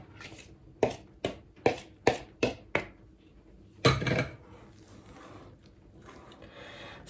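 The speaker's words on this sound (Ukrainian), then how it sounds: "ложкою, отак потихеньку, потихеньку, потихеньку перемішую" A spoon knocks against a bowl of wholegrain yeast bread dough in a quick series of sharp clinks, then one louder scrape and a softer rubbing stir trailing off.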